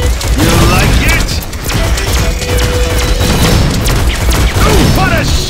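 Gunfire in the shooter game Shadowgun Legends comes as dense, loud bursts of rapid shots and booms with mechanical clatter and whooshing effects, while a voice speaks over the action.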